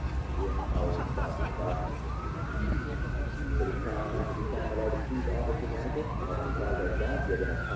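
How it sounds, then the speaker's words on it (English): A wailing police siren rises and falls in the distance over steady traffic rumble and a crowd's chatter in Washington, DC, the sweeping tone repeating across the clip. "finally heard the sirens"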